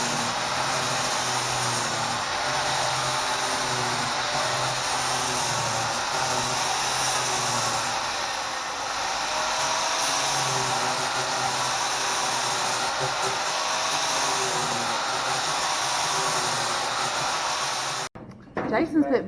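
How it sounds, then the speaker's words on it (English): A heater blows a steady, loud rush of air to dry trailer tires in a workshop, continuous and close, cutting off near the end. "He's trying to dry his tires"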